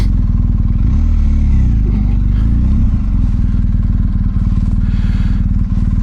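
A BMW R1250GS motorcycle rides off-road through a snowy winter park, its engine loud and close in a steady throbbing drone, with pitch shifts as the rider works the throttle early on and no talking.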